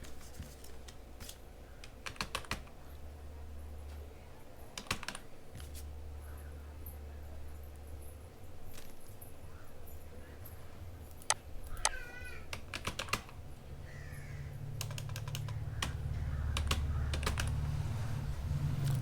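Typing on a computer keyboard while filling in an online ration smart card application, with bursts of quick, close key clicks separated by pauses, plus a few faint chirpy sounds and a low hum in the background.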